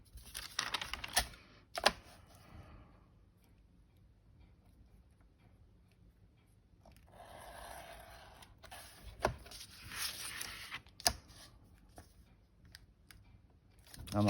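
Paper being trimmed for a handmade scrapbook journal made from 12 x 12 paper, with sharp snipping and cutting sounds at intervals, mostly quiet between cuts and a longer rustling stretch midway.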